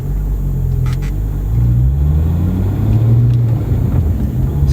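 A 2007 Porsche 911 Turbo engine hums low and steady close by, a soft continuous purr with slight swells in pitch, alone without any talk.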